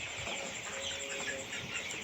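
Broiler chickens cluck softly in a poultry shed, a few faint short calls over a steady background hum, with no voices.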